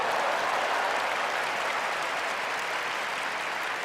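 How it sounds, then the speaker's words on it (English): A large Japanese crowd at a Final Fantasy XIV Fan Fest erupts in dense, sustained applause and cheering, a loud, continuous roar of clapping with no pauses. "That is the loudest that the JP crowd got during the entire event."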